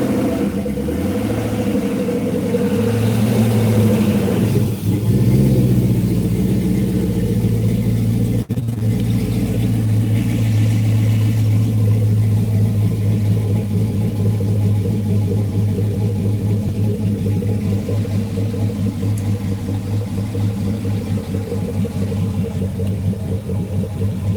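A swapped-in 5.3 engine cranks and catches, then runs steadily, a loud, continuous close-up rumble with small rev changes and no talking.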